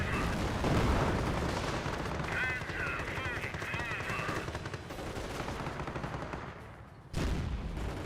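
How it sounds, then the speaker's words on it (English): A mortar half-track fires in the Company of Heroes battle game, heavy booms and rattling gunfire in a dense continuous barrage, with a sharp blast near the end. "Mortar half track firing away"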